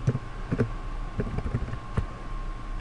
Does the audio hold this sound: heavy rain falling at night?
no